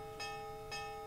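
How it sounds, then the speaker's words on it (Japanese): Bells clang twice in the ninja-era game Nightshade, two evenly spaced metallic strikes ringing over a steady tonal backdrop, sounding fairly distant. "Then we heard deafening clanging from outside. Oh? Are those bells?"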